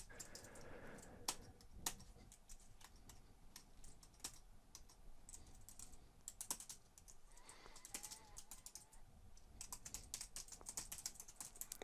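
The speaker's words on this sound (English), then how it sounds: "good typing skills." Quiet, steady typing on a computer keyboard, irregular clusters of clicky keystrokes with occasional sharper taps, no talking.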